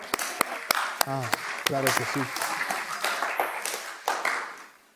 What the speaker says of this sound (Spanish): ¿Podemos darle un buen aplauso a Ayanda?